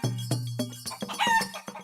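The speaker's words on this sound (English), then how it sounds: "Yeah, the chicken seems excited to hear that." A chicken on a farm gives several quick, close clucks in an uneven rhythm, standing out clearly against a quiet background.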